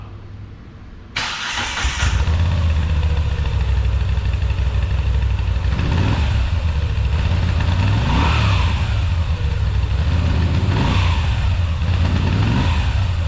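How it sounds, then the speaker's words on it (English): Stock Moto Guzzi V7 Stone motorcycle starts up, then idles loudly with a throbbing exhaust note, with several rising and falling revs close to the pipes. "We're going to do an exhaust sound comparison between stock V7, this happens to be a Stone"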